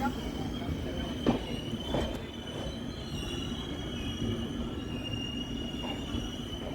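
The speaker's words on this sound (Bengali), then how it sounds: "বোলপুরে ট্রেন ঢুকলো তেরো মিনিট লেটে" Darjeeling Mail passenger train pulling into Bolpur station at night, a steady rolling rumble with a high wheel squeal running throughout and a few brief knocks, heard from close by on board or at the platform.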